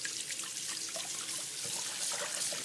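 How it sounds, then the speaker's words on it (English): Cold tap water pours into a bowl of beans, a steady close splashing and trickling with no voices. "fill this bowl back up with some cold water to really drain these beans well"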